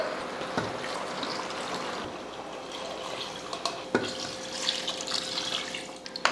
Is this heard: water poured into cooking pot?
yes